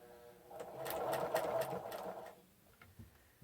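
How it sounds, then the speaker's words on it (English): A sewing machine stitches around the edge of a fabric sleeping mask with batting inside, whirring up to a close, steady run, then slowing and stopping, with quiet talk near the end. "I'm going to go all the way around, and I'll end up on top of my previous thread."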